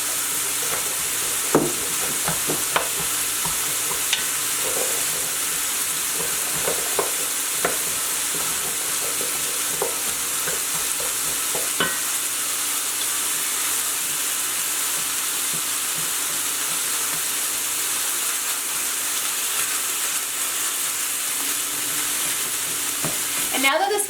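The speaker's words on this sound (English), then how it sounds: "you're going to put this in the pot, and you're going to saute these potatoes for 6 to 8 minutes" Diced, peeled sweet potatoes sautéing in a pot give off a long, even frying hiss, broken now and then by soft stirring clicks, steady and close with nobody talking.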